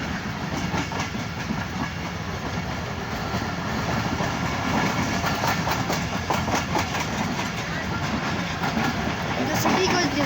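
A train rolls into Lahore city from the countryside with a close, continuous rumble and rhythmic clickety-clack of wheels over rail joints, steady and loud throughout, with a voice faintly underneath.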